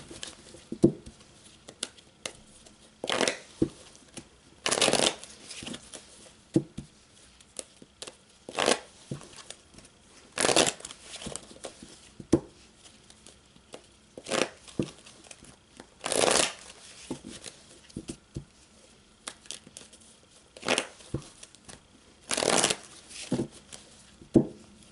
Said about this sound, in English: And just bear with me as I shuffle, Terronald.